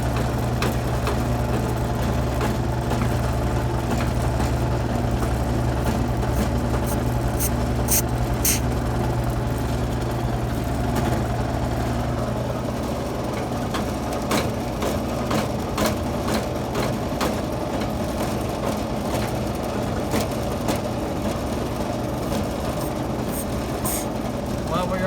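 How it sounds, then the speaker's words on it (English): T50 fire pump booster under pressure, a steady low mechanical hum and rumble with rhythmic chuffing throughout, accompanied by intermittent clicks and light clatter. "You can hear the booster chuffing."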